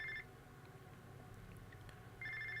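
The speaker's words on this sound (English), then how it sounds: "My controller started ringing." A PS4 controller speaker rings during the game Infamous: First Light, giving two short electronic tone bursts at the start and end over a quiet, low game rumble.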